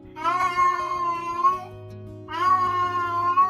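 A cat meows twice, each time in a long, loud, wavering cry with a short pause between, over a faint background music bed.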